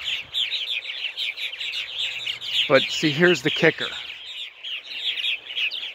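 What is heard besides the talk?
purple martin colony calling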